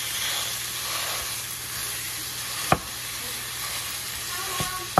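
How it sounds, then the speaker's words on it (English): Ground meat browning in a pan for queso gives a steady close sizzle and hiss, broken by a few sharp clicks of a utensil against the pan. "You want to cook it till it's brown."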